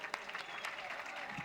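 Applause from an audience at a Citizen of the Year ceremony, fairly faint and steady clapping, with a voice briefly audible over it.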